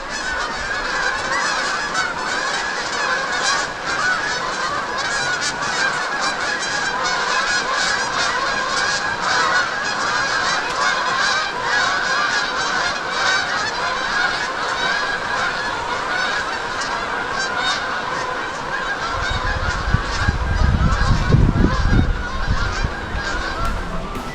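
A flock of geese honks steadily and loudly throughout, overlapping calls forming a dense chorus as the birds return, with a low rumble rising near the end.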